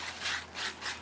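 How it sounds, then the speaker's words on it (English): A mixing spatula scrapes through Bondo body filler in three short, close rasping strokes that come at an even rhythm. "you want to be sure and drag your mixing spatula off the edge so you can get all of that off"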